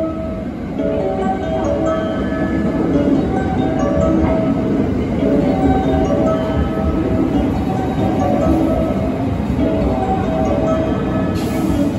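The Sunrise Seto sleeper train runs on rails, heard from inside as a continuous, loud, steady rumble with faint rhythmic clatter lasting the whole stretch.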